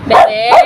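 Basha, a small dog, lets out two close, whiny yipping barks, loud and near, while a woman calls to her softly.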